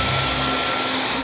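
A vacuum cleaner roars steadily and loudly at close range, a continuous broadband whine and rush with no talk over it.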